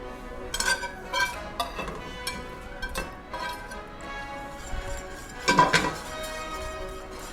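A spoon scrapes and clinks against a pot of bacon cheeseburger soup as it is stirred, quiet irregular knocks with a few louder clanks, heard alone without talk.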